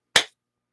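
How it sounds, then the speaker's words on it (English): A single sharp hand clap during a Kali Hridayam meditation, close and crisp, one isolated strike that decays quickly into silence. "And then clap."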